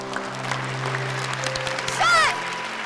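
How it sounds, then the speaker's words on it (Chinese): Guests at a wedding ceremony clap together in a moderate, steady applause beneath a low musical hum, swelling briefly near the end alongside a short whistle-like sound. "首先用您激情的掌声，有请最佳白马王子王静先生闪亮登场"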